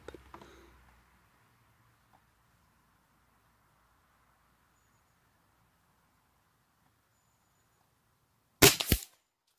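A Gamo Shadow IGT Hunter hybrid air rifle fires a single sharp, loud crack near the end, after a faint brief noise at the start and a long quiet stretch.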